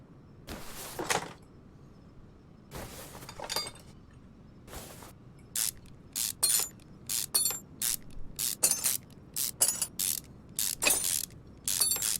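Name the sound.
manifold bolts being removed, from video game Car Mechanic Simulator 2021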